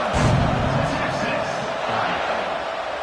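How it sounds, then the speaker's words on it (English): A stadium crowd in the College Football 26 video game buzzes as a steady, dense roar of many voices, loud and continuous throughout. "this crowd is buzzing after that last score"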